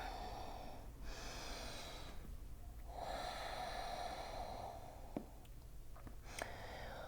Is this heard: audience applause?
no